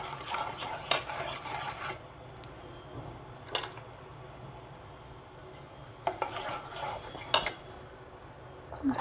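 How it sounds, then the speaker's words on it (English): A spoon stirs a homemade soap mixture of melted soap, gram flour and wild turmeric in a bowl. Bursts of scraping and clinking come and go between quieter stretches. "I will put in the soap and I will mix it well"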